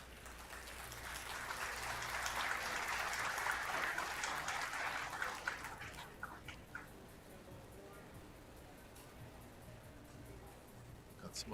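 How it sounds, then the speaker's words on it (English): Applause rises from a nearby table at a Predator WPA Teams 10-ball pool event, a soft, distant swell of clapping that fades after several seconds, leaving quieter hall ambience with occasional knocks and a voice talking. "Got some applause coming from table number 1."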